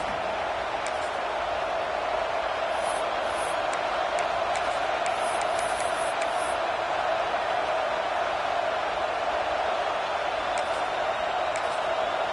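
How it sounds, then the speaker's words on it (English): Constant roar of a college football stadium crowd, a dense steady wash of noise with scattered faint whistles and shouts rising above it, heard from a distance. "This crowd bringing the energy and noise early."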